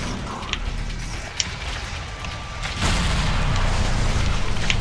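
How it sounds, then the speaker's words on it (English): Explosions in the video game Sanctum 2 boom in a noisy mix: a few scattered pops, then a sudden louder sustained roar of blasts that keeps going. "The explosions. They are immense."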